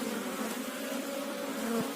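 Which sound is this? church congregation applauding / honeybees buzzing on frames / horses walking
honeybees buzzing on frames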